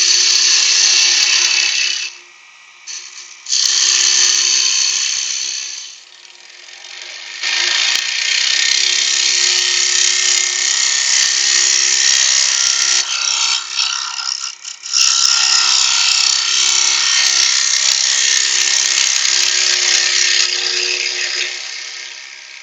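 A power tool spins at 2000 RPM while a jewellery box is being made, giving a loud, steady high whine that briefly dips and drops out twice before running on continuously.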